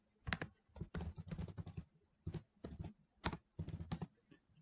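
A computer keyboard is typed on in quick bursts of clicky keystrokes separated by short pauses as a username and password are entered, close and fairly quiet.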